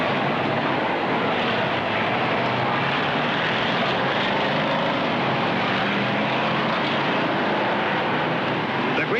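A pack of 1967 USAC stock cars, including a Dodge Charger and a Ford, roars at the start of a race, a dense, loud and sustained engine drone with no distinct passes and no talk.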